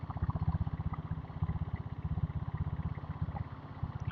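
A diesel Royal Enfield Bullet motorcycle cruising at 50 to 60 km/h, its engine thumping in a fast, even pulse of heavy low beats, close and continuous.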